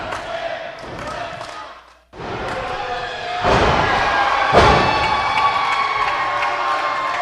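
Wrestling crowd at an indie wrestling show cheers and shouts loudly, swelling after a brief drop, with heavy thuds of bodies hitting the ring mat cutting through.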